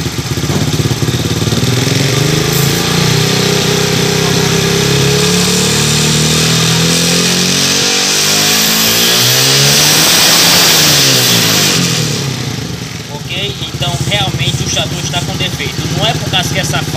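A Shineray XY 110 Wave motorcycle engine with a battery-charging fault, revving up and down loudly and close during a voltage test, while someone speaks over the engine.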